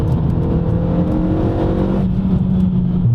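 A third-generation Renault Megane RS hatchback engine roars steadily at high revs, the pitch shifting as it speeds along, loud and close with a whirring drone.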